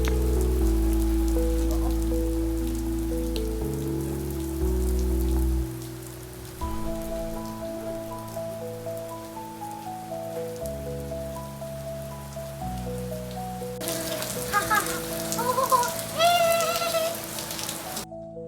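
Rain falls on a garden in Australia with a steady, soft patter under gentle background music, growing denser and more splashy toward the end.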